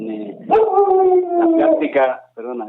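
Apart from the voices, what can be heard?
dog howling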